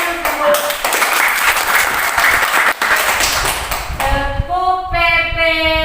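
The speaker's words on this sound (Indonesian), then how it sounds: "Semua harus tepuk tangan dulu." A group of people claps hands in quick, rhythmic bursts, loud and close, with voices chanting along and a sustained tone at the end.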